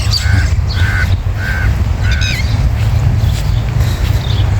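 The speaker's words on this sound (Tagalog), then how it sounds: "Ayan, may uwak doon." A crow caws in a series of four harsh calls at a steady pace, fairly close, over a low background rumble.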